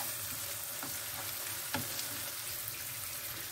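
Tomato paste sizzles and fries in a hot pan for çökertme kebabı, a steady dense crackle with a few sharper pops and scrapes, close and alone without voices.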